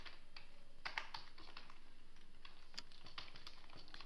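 Computer keyboard typing as JavaScript code is entered, faint scattered key clicks in short irregular bursts over low steady background hum, with no talk.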